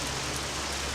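Steady, even rain falls in the video game Morrowind, a continuous dense hiss with no distinct drops or voices for the whole moment.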